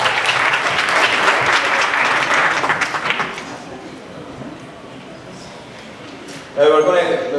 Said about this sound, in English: Round of applause to the band.